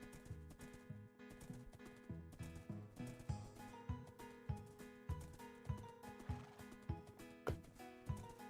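A horse's hooves clip-clop in steady rhythm in the Wynncraft video game, evenly spaced thuds over a quiet, faint background with no speech.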